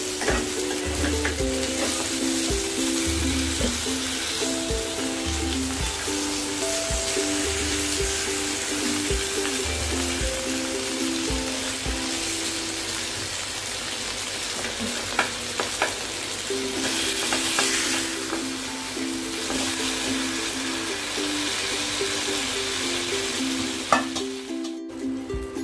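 Chicken tandoori roasting in a pan over a very low gas flame makes a continuous, fairly loud sizzle and crackle that holds steady throughout, with a faint hum underneath.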